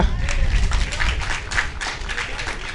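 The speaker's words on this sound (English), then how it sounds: "So you should clap yourself for that." A group claps for themselves during a disaster management unit drill in Picton, a steady patter of mixed hand claps lasting a few seconds with some voices underneath.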